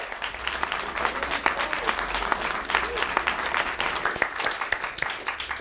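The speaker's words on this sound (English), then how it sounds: "Please give them a round of applause." A studio audience applauds the panel at the close of a student TV quiz show, steady dense clapping throughout with faint voices underneath.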